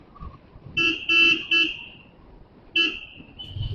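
A car horn honks in Hyderabad traffic while overtaking a bus: three short toots in quick succession, a pause, then a longer blast, loud over low road rumble.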